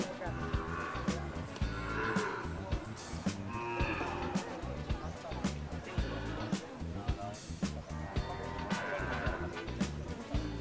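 A water buffalo (carabao) on a farm lowing in long, loud, close moos, repeated several times, while people talk nearby.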